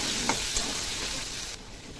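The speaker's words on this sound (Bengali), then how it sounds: "দিয়ে দেবো সামান্য একটু নুন, একটু হলুদ দিয়ে আলুটাকে একটু ভেজে নেব।" Potatoes fry in hot oil with salt and turmeric, giving a steady, close hiss of sizzling with a couple of faint clicks and no talking.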